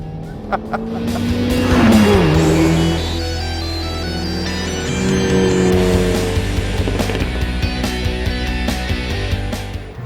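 Renault Megane R.S. 300 Trophy hot hatch engine firing up and running, a loud, close, steady engine drone with rising and settling revs through the clip, no speech over it.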